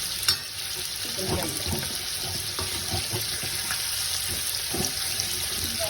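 Ginger paste fries in oil in a pan for an Andhra-style chicken pulao: a steady, close sizzle with scattered crackles and a few stirring scrapes, with no talking.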